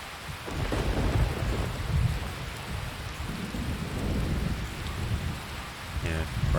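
Steady rain pours in a video game with low rumbling thunder rolling underneath, a dense continuous wash of sound and no talking.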